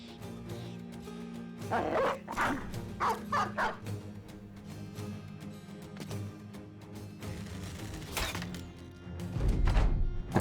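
A dog barks in repeated bursts amid battle in Battle Brothers Reforged, with several sharp yips and woofs spaced over a low game drone and a heavier thud near the end; no voices.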